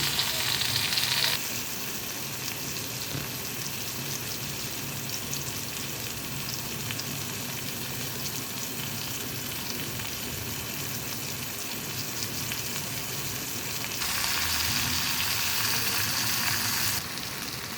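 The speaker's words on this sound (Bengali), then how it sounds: "পেঁয়াজ, মরিচ আর টমেটো ভেজে নিয়েছি" Onion, chili and tomato frying in a pan, a loud, steady, dense sizzle that runs without a break and swells a little louder near the end, with no voices.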